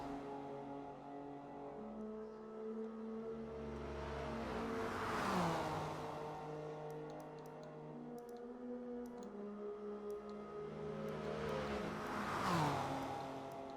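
Race cars in a Le Mans racing video game roar down the Mulsanne straight, engine drone swelling twice as cars pass close by with rising and falling pitch, steady engine hum between passes.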